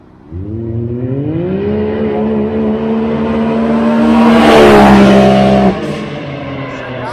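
A Can-Am Maverick X3 Big Turbo UTV running 100 octane and 20 pounds of boost accelerates from 0 to 60, its engine note climbing steadily and loudly for several seconds before cutting off abruptly.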